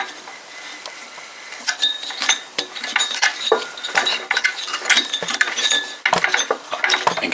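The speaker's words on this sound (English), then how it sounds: "when we turn it, listen, you can hear that pop" A 1967/68 Suffolk Super Punch lawnmower engine is turned over by hand, giving a string of close, sharp metallic clicks and small pops over a steady background hiss.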